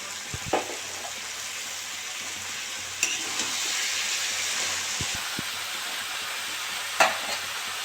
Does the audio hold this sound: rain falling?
no